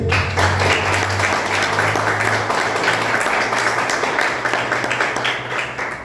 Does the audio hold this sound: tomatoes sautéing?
no